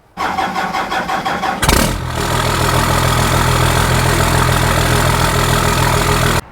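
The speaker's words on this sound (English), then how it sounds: "who doesn't love the sound of a 12 valve cold start?" A first-generation Cummins 12-valve diesel truck engine cold-starts with rapid starter clatter, then catches and settles into a loud, steady, rumbling idle.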